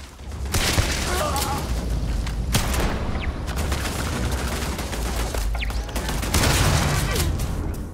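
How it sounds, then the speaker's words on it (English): A turret is blown up during a firefight in the Starfield video game: repeated bursts of gunfire and blasts crackle across the scene, loud and close, with a voice speaking at times. "Blew up that turret."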